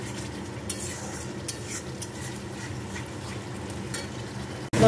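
Spice paste cooks down in oil with salt added, a soft continuous sizzle with light scrapes of a spoon stirring in the pan, close and steady with no voices.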